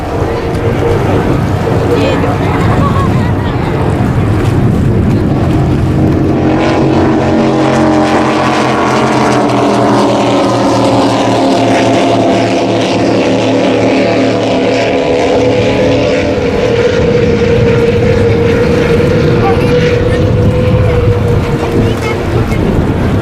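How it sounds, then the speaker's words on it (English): Offshore superboats race down the main straight on Lake Macquarie during an Australian championship, a loud continuous engine roar with rising and falling pitch as boats pass, wind and crowd noise mixed in. "Team Maritimo, Andrew's boat, thundering down the main straight."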